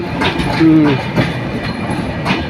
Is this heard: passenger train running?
yes